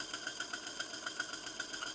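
Old restored toy steam engine running, a faint, fast and regular mechanical chuffing and ticking with light metallic clatter, steady throughout and heard alone.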